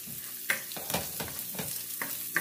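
Garlic and ginger sauté in a hot pan, giving a steady sizzle broken by several sharp scraping stirs in a quick, uneven rhythm, heard close and alone.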